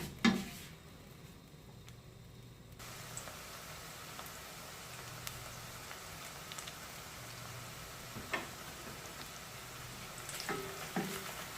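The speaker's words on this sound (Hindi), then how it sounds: "प्याज शामिल करते हैं और इसको थोड़ी देर पका लेते हैं।" Onions frying in a pan for vegetable biryani, a soft steady sizzle with occasional faint scrapes and taps of stirring, close and quiet.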